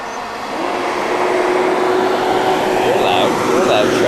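A loud truck rumbles past close by on a roadside in Kanona, New York, a steady broadband roar building in the first half-second and holding throughout, with a brief high squeal near the end and a voice talking over it.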